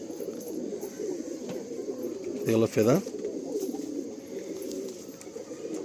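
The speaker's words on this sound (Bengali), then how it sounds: "আপনারা কিন্তু সব অন্ধ্রা পায়রা দেখছেন।" Andhra Kalanka pigeons kept by a fancier coo low and close, with a short burst of louder rolling coos near the middle while someone talks over the birds.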